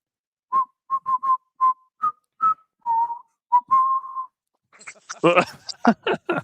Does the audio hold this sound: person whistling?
yes